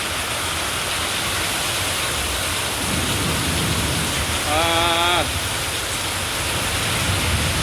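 Heavy rain pours down in a long storm as flood water begins spreading over rice fields, a dense, loud steady hiss throughout with a brief whistled or squealing tone partway through.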